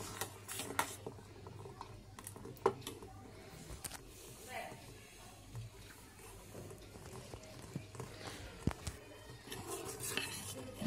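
Vanilla custard being stirred in a pan, with soft scraping and occasional clinks of a spoon against metal, quiet and intermittent under someone talking.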